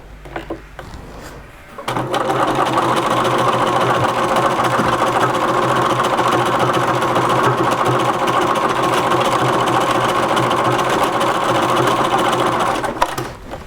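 A sewing machine fitted with a twin needle stitches folded linen fabric, giving a steady, loud mechanical whir and rapid clatter for about eleven seconds before stopping, with no talking over it.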